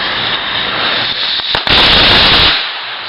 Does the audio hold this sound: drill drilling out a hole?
no